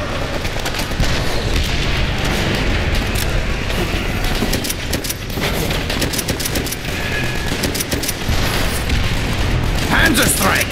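In the World War II video game World at War, booming blasts from a tank shell and heavy gunfire rumble loudly and continuously, with a voice talking over the barrage.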